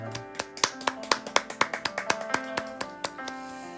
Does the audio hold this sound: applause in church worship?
yes